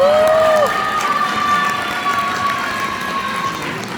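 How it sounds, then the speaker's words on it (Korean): A crowd at a political book launch event in Daegu applauds and cheers loudly and steadily, with shrill whistle-like tones rising above the sustained roar. "박수 한번 주십시오"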